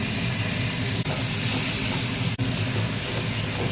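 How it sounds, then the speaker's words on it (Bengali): Chopped vegetables fry in a generous amount of butter for veg fried rice, giving a continuous dense sizzle that stays loud and steady throughout. "বাটারটা একটু বেশি করে সবজিগুলো আগে প্রথমে ভাজতে"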